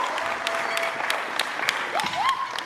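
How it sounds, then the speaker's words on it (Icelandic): An audience at a bench press competition applauds the bar loaders, steady claps forming a moderate wash with a few sharper individual claps standing out, and a brief tonal whistle-like sweep near the end. "Ég ætla að biðja áhorfendur að gefa stangamönnum gott klapp hérna."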